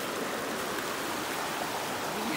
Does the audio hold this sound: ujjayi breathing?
no